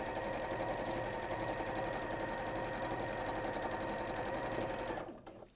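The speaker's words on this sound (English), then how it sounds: "you can have your sewing machine on full speed if you like. Yeah, it's gone a bit faster." Sewing machine racing at full speed, a loud, fast, even mechanical whir with a rapid needle chatter that stops abruptly near the end.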